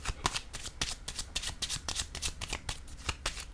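A deck of tarot cards shuffled by hand, with rapid, rhythmic riffling and flicking bursts repeating steadily and close up, with no voices.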